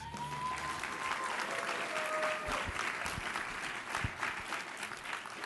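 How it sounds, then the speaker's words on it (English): Steady applause from a large crowd fills the whole stretch, dense clapping at an even level with a few faint voices mixed in. "Can we get one more round of applause"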